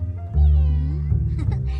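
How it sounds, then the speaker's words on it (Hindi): A cat meows in an anime, one loud drawn-out call close up followed by a shorter second meow. "मेरी प्यारी बिल्ली, कितनी प्यारी हो तुम, प्यारी किटी।"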